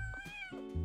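A pet cat named Momo meows in protest while having its teeth brushed inside a camper van, giving a short, whiny, wavering meow close by, with brief low rustling and a closing grunt-like sound.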